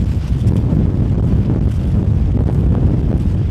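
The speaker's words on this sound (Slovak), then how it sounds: "poriadne tu fúka" Strong wind gusting across an open, damp meadow, a loud, steady low rush buffeting the microphone without letup.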